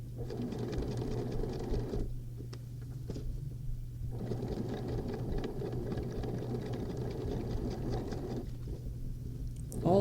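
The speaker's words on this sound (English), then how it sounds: "push it back on your machine and stitch along that line" A sewing machine top stitches a tote bag seam, its motor running in a steady fast close chatter with two short pauses before resuming, fairly quiet overall.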